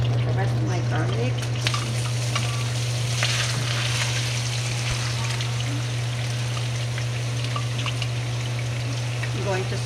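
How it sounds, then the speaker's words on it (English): Garlic sautés with onion in a pan for Filipino chicken adobo, giving a steady close sizzle and crackle over a constant low hum, with a few faint stirring taps. "Going to saute that with"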